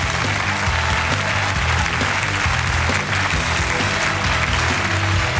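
A television studio audience gives loud, sustained applause for investigator Annie Dubé, a thick unbroken wash of clapping lasting the whole five seconds with no voices over it.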